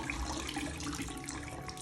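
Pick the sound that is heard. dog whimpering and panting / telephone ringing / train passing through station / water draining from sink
water draining from sink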